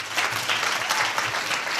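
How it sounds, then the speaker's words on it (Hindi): A church congregation claps in a short, dense burst of applause, filling the room evenly for about two seconds with no voices above it. "ताली बजाओ"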